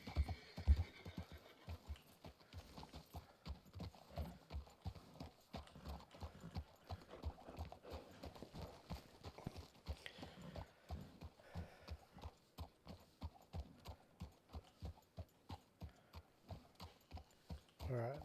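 Horse hooves clip-clopping steadily along a mountain trail in the western roleplay game WildRP, a regular walking rhythm under occasional talk, with a brief whinny near the start.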